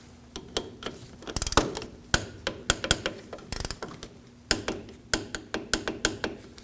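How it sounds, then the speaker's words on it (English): A ratchet clicks rapidly and unevenly as it snugs down the brake caliper slide pin bolts on a 2009-2014 Ford F-150 front brake job, the sharp ticks close and loud with short pauses between bursts, no speech. "We can install our bolts for our slide pins. And we can go ahead and snug those down."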